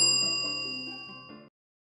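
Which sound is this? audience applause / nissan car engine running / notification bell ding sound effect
notification bell ding sound effect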